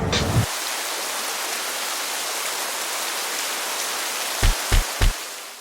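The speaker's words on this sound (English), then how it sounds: "It's gonna rain again." Steady rain pours down over a downtown street area in Winter Garden, Florida, a continuous broadband hiss lasting throughout, with a brief low thump at the start and three short knocks near the end.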